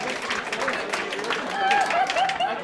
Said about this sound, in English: But round of applause for Ray Senior,